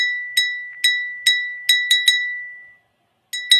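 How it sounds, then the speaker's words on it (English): A Polish-made glass bell from Krosno rings out in a series of bright, clear strikes with a sustained high tone, six quick rings then a pause before two more, alone and close. "Beautiful bell."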